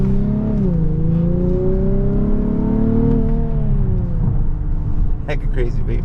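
A Nissan Nismo accelerating hard through the gears, its loud engine note rising and dipping steadily from close inside the car, with voices chatting over it.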